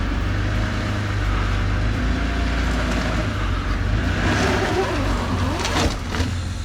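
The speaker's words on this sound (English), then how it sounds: "Someone in the comments suggested just running it over to break the bead." A cheap car is driven over a tire in a home driveway to break the bead, a steady low engine drone throughout with a brief thump near the end.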